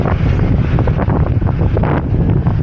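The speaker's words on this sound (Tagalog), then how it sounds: "Ang lakas ng alon!" Strong wind buffets the microphone beside Lake Ashi in Hakone, a continuous loud rumbling roar with rough churning water and waves mixed in, no voices heard.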